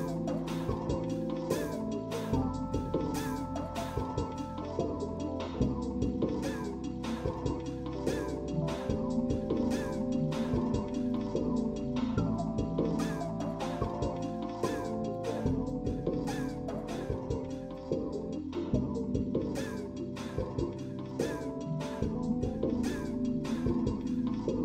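Seagulls calling in a stream's game or sound-design setting, dense overlapping harsh cries repeating rapidly and loudly over a steady tonal background, with no talk.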